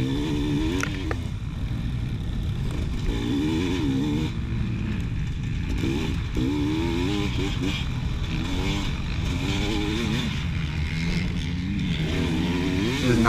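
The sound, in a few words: dirt bike motorcycle engine racing GNCC lap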